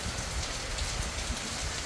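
Steady rain patters down continuously, a dense hiss of drops striking surfaces close by, with no voices.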